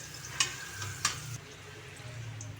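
Ginger sautéing in a pan for chicken tinola, a soft steady sizzle with two sharp clinks of a utensil against the pan early on, quiet and close.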